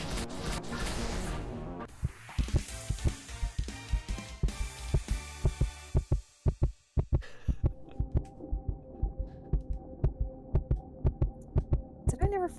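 A loud heartbeat sound effect from the video game Amy Superstars, a regular deep throbbing thump repeating steadily over a droning hum, with a heavier crash-like swell early on.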